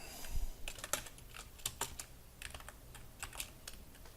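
JavaScript code being typed on a computer keyboard, with clusters of crisp close key clicks in an uneven rhythm that start louder and then grow softer, no talking.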